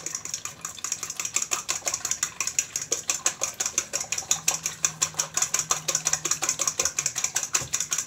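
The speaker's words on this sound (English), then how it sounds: "I'm going to add my butter into my eggs. And I'm going to whisk that up" A whisk beats butter into eggs in a bowl for popovers, making fast, regular metallic clinks and scrapes close up, steady throughout with no talking.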